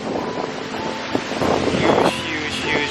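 Seljalandsfoss waterfall in Iceland, a huge volume of water plunging down, gives a loud, steady broadband roar mixed with wind buffeting the microphone, swelling slightly toward the middle with no clear speech.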